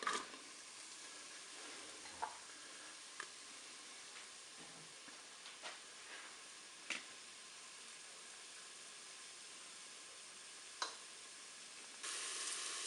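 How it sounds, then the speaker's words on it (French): Onions dropped into hot oil in a Cookeo multicooker pot give a faint, steady frying sizzle with a few scattered small pops and crackles, heard alone without talk. "mon huile est chaude, je vais mettre mes oignons"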